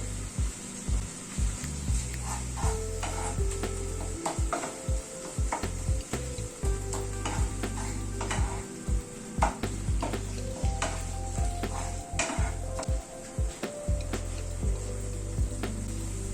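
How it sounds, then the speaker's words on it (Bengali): Spice masala with kasuri methi sizzles steadily in a pan for a paneer dish while a spatula scrapes and stirs in irregular strokes, the frying hiss constant and fairly close throughout. "খানিকটা কসুরি মেথি দিয়ে দিলাম মশলার সাথে কষানোর জন্য"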